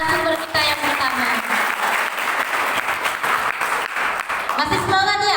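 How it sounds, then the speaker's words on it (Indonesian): Audience applause for the first speaker at a student university-entry guidance session, a steady wash of clapping from a crowd filling the room, with some voices mixed in near the start and end. "Beri tepuk tangan dulu dong buat narasumber kita yang pertama."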